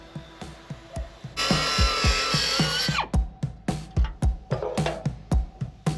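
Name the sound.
tools stripping brackets off a car's shock tower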